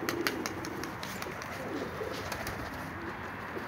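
Pigeons coo near their coop in a few soft, low, rolling calls at close range, over light background noise and a few faint clicks.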